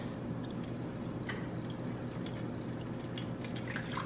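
Water poured into a baking sheet surrounding a loaf pan for a water bath, a faint steady liquid wash with a few soft drips and splashes, quiet and alone.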